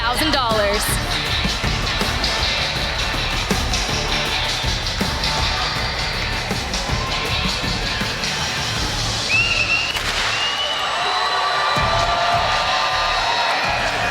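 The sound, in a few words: crowd cheering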